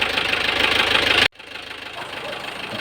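A car engine idles with a fast, rough, even knocking pulse, loud and close, cutting out abruptly for a moment partway through before the rhythmic idle resumes slightly quieter.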